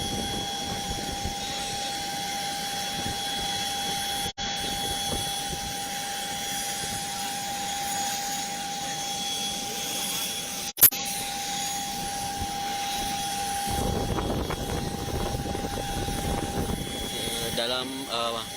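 Aircraft engine drones steadily on a police evacuation flight carrying the Jambi police chief to the Polri hospital in Kramat Jati, a constant tonal hum with broadband roar, briefly interrupted by clicks, while people talk nearby.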